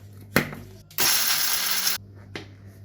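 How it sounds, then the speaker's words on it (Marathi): An electric spice grinder whirs loudly for about a second, finely grinding rose petals and spices, with short knocks and rattles before and after. "आता यांना आपण बारीक वाटून घेऊया"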